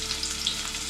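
Onion and curry leaves sizzle in hot oil in a pan as the tempering for a Malvani prawn curry is made. The frying hiss is loud, close and constant from start to finish.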